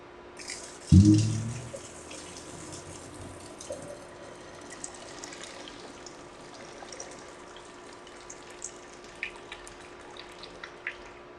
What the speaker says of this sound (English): And just drain all the water off.